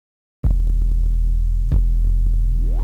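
A Waves Berzerk distortion plugin with its temperature control turned toward warmer gives a steady, thick, throbbing low tone after a short silence, with one brief bump partway through and a rising sweep near the end.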